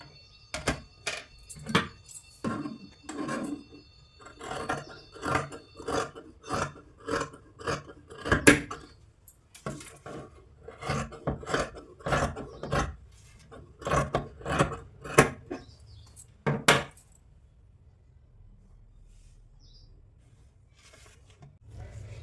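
Scissors cutting lehenga blouse fabric in a long run of rhythmic snips, close and crisp, each cut a short sharp burst before quiet at the end.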